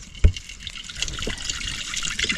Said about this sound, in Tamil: தண்ணி ஊற்றிக்கிறோம் தேவையான அளவு.